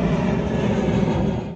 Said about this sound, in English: There are planes taking off and we are also ready to take off.